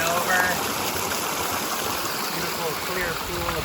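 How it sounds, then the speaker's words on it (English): A clear mountain stream on the Timberline Trail runs over rocks just above a clear pool, giving a steady, close rushing wash with a few faint, high bird-like chirps drifting through. "here is the good water right here. You can see it"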